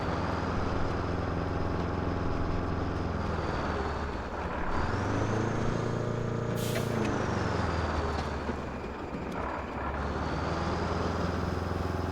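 An air brake on a heavy truck in the video game RoadCraft releases a sharp hiss midway through. A steady, loud diesel engine idles and revs underneath throughout.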